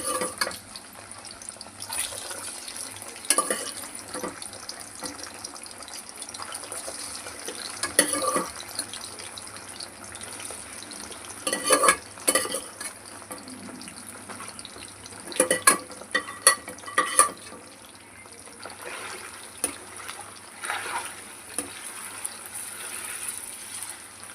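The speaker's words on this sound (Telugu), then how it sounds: "ఆయిల్ అయితే హీట్ అయింది. మటన్ వేసుకొని ఫ్రై చేసుకుందాం." Mutton frying in hot oil in a pan, a steady soft sizzle running underneath, broken by repeated clattering stirs and scrapes of a spoon.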